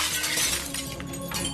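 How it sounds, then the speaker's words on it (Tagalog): A glass display window of a clothing store shatters loudly, with dense crashing and tinkling shards filling the whole moment before debris trails off. "Basag ang mga salamin."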